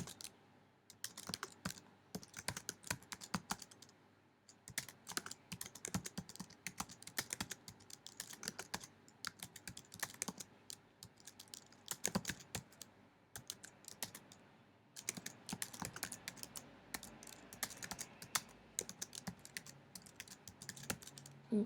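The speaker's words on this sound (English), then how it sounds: "Okay, so I'll type that all in." Fingers type continuously on a computer keyboard, rapid bursts of soft clacking keystrokes with brief pauses, close and fairly quiet, with no voices.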